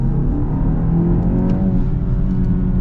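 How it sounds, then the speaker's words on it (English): A 2025 BMW X1 with a 4-cylinder engine accelerates, its engine note rising steadily from a low drone with rising harmonics as revs build, heard from inside the cabin with no talking. "let's get a little acceleration here"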